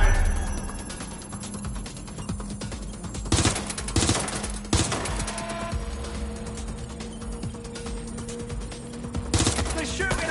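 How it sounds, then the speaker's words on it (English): Gunfire in Watch Dogs Legion: dense rapid automatic shots rattle continuously over a mechanical hum, with a few louder cracks standing out and a faint voice underneath. "They're shooting at us."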